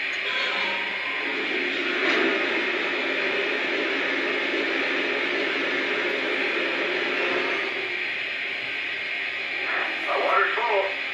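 Continuous rushing, hissing water-refueling effect from a Vision Big Boy model locomotive, a steady broadband wash with small surges and faint higher sputters near the end.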